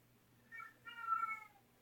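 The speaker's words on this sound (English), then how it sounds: "And my cat's in heat. Sorry about that." A female cat in heat gives a faint, drawn-out, wavering meow in two parts, the second longer and louder, against a quiet indoor background with a low steady hum.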